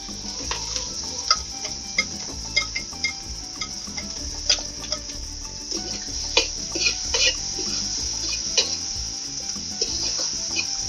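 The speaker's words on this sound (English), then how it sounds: "And give it a stir." A spoon scrapes and clinks around a pot of onion, garlic, pimento, chive and celery cooking over a fireside, with steady sizzling beneath and irregular sharp taps against the pot.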